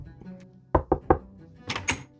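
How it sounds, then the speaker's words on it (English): Three sharp knocks on an apartment door in quick, evenly spaced succession, close and fairly loud, followed by a brief rustle or movement in a quiet room. "there was a knock on our door."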